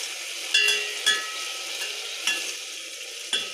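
Spices and browned ingredients frying in a pan for Kashmiri wazwan-style mirchi korma, a steady sizzle punctuated by several sharp scrapes of a utensil stirring, close and clear with no talking.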